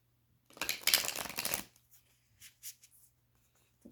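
A deck of oracle cards gets a quick, close riffle shuffle indoors, a dense papery burst of about a second, followed by a few softer taps and slides as the cards settle, quiet overall and without speech.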